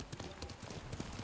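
Horse hooves clip-clop in a steady riding rhythm in the video game Ghost of Tsushima, close and moderately loud over a busy game background.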